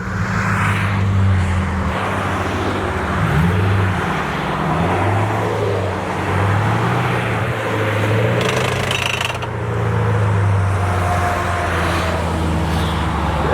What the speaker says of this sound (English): see if he can move the Mustang under its own power